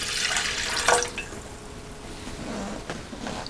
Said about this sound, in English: we add our wet ingredients first, which is